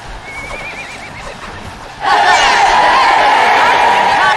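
Horses whinny and neigh loudly in the Kingdom Under Fire: Heroes game, first faint and wavering, then a burst of several overlapping calls over a busy battlefield din.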